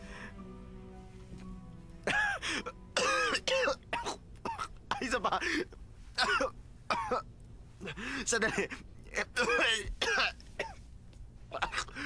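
Repeated harsh coughing fits, close and loud, in bursts of several coughs with brief pauses, while a person speaks a few words between them.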